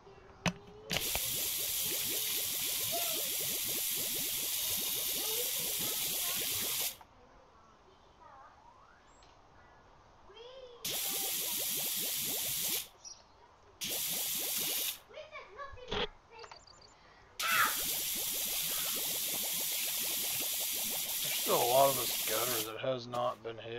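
Cleaner is sprayed from a spray bottle while cleaning a bungalow, with several long hissing bursts separated by pauses, close and loud, and people talking in the gaps and underneath.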